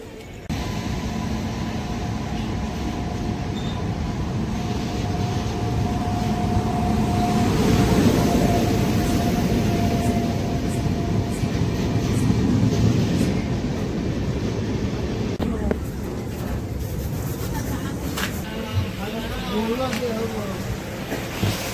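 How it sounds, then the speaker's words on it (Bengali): The Black Diamond Express rumbles at Barakar station in a long, steady roar of rolling wagons, loud and continuous, with a shift in texture partway through. "ট্রেন আছে ব্ল্যাক ডায়মন্ড এক্সপ্রেস, সে একই ট্রেন"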